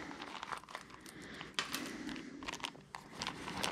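A small wallet is handled up close, giving off quiet, irregular crunchy crinkling and rustling sounds in short bursts with no talking.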